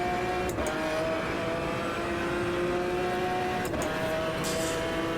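A race car driven in the sim racing game Automobilista 2 (AMS2): a steady engine drone with tonal whine runs throughout, with brief bumps or shifts around the middle and end.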